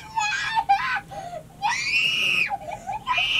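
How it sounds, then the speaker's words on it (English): A young girl screams in repeated high-pitched bursts, loud and close, with short gaps between shrieks that verge on crying. "I'm gonna feel bad if I sample this little girl screaming"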